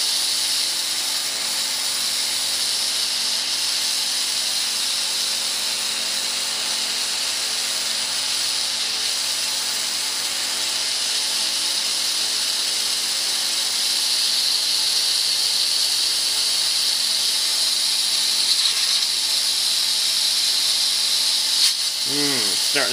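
Steady broad hiss of a small hot torch flame heating a rubber control arm bushing on a VW MKIV, continuous and close throughout, with a brief squeal near the end.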